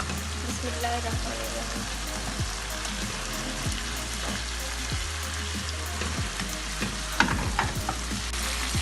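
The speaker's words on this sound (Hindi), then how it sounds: "तो अब हम इसमें फिश शामिल करेंगे।" Fried fish pieces go into a korma masala and sizzle steadily in hot oil, with stirring clinks and scrapes throughout at close range.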